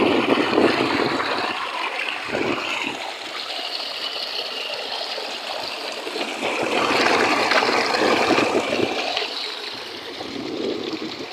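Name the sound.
water pouring from a borewell column pipe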